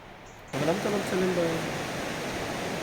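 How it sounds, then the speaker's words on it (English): A steady roar of rushing water from a waterfall fills the scene, with a brief human voice sounding over it near the start. "I want you to listen to this roar of your waterfalls."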